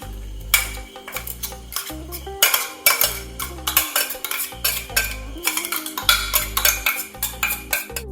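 Spoon stirring fish with crushed garlic, ginger, green chilli and coconut in a pan: repeated scraping and clinking strokes in an uneven rhythm, fairly close, with no talk.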